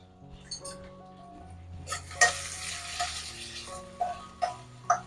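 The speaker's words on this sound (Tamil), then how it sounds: "ஒரே நிமிஷம் வதக்கிக்கலாம்." Onion, ginger, garlic and cashews sauté in a pan for a soya chunk gravy, soft frying crackle under a low hum, punctuated by several sharp metallic clinks of a spoon against the pan, no speech.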